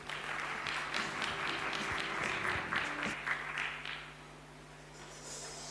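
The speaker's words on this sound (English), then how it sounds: "Another round of applause for Joel Diramapoi." Audience applause at a World Intellectual Property Day event after a speech, a broad wash of clapping that holds steady for about four seconds, then thins and fades to a quieter room.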